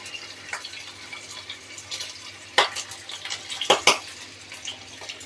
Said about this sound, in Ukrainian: І тепер порційно закидаємо сальце. О, як хрустить